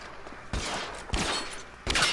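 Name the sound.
gunfire in the video game L.A. Noire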